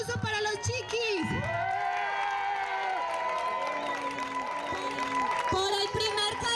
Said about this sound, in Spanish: ¡Un aplauso para los chiquis!